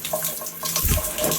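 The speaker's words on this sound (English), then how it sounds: "I have a rain head that can fall down on you." Water pours steadily from a rain shower head, a loud, continuous broadband spray with a thicker gush near the middle and no voices.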